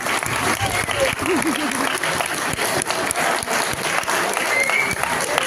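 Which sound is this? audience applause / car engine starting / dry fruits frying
audience applause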